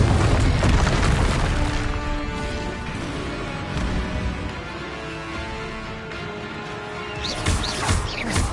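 In Hogwarts Legacy, a Confringo blasting spell goes off with a loud explosive boom and crashing debris, followed by rumbling spell effects and tonal game music, with another burst of blasts near the end.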